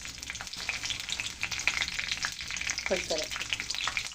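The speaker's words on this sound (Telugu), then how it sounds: "వేసి బాగా ఫ్రై చేస్తాం" Cumin, mustard seeds and green chillies fry in hot oil with a lively crackling sizzle and faint stirring, while a voice briefly speaks over it.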